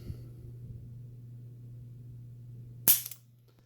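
A light rifle trigger pulled on a trigger pull gauge, letting the action break with a single sharp, close metallic snap near the end. A low steady electrical hum runs underneath throughout.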